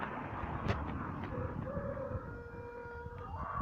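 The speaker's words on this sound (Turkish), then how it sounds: "Tavuklar çıktı." Chickens in a Turkish village, faint clucking and calls over a noisy outdoor background, quiet and somewhat distant.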